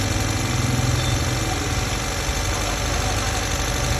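A freshly overhauled engine idles with a steady, low rumble on and on, with a faint mechanical knock, fairly close and constant throughout, with no one speaking.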